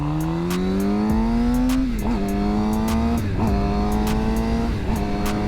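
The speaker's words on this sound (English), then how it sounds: "It's called rev matching" A motorcycle engine drones loudly and steadily while the rider rev-matches through downshifts, with three dips and quick throttle blips that push the pitch back up, and no talking over it.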